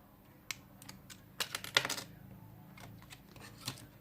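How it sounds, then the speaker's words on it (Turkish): Memory card pushed into a GoPro Hero 4 Black action camera: a few close, sharp plastic clicks and taps, with a small cluster of louder clicks midway, then quieter ticks, no voices. "İçine kartını takalım."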